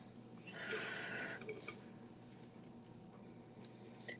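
Water drips into a skincare powder to mix a paste, a short series of soft, close, quiet drips and squishy wet sounds with no talking.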